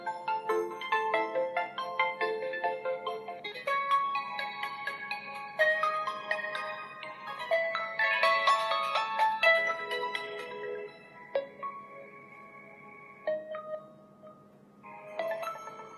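Custom ringtone playing on an OPPO phone running ColorOS 11: a bright melodic electronic tune with layered tones, steady and fairly loud for about sixteen seconds, thinning out near the end before picking up again, no voices.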